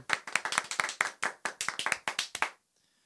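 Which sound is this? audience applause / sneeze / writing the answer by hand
audience applause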